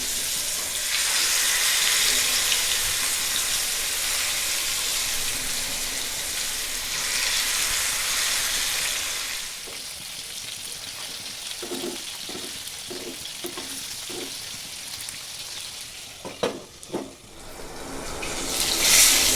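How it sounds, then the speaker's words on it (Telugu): Fish frying in hot oil in a pan, a loud close sizzle that fades midway, followed by a quieter stretch with several light clinks and scrapes, then swells again at the end. "ఇప్పుడు దీంట్లో ఫిష్ ఫ్రై చేస్తున్నాను."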